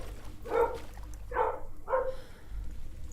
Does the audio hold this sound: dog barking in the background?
yes